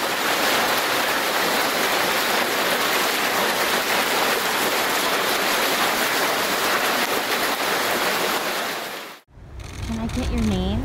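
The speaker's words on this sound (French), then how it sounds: "par forte tempête de grêle, cette piscine ressemble plutôt à un jacuzzi" Dense, loud hiss of hail pelting a swimming pool during a strong hailstorm, a continuous roaring patter that cuts off abruptly near the end, followed by other sounds.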